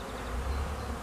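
Dense buzzing of many honeybees at an apiary in spring, a continuous droning hum all around with no gaps.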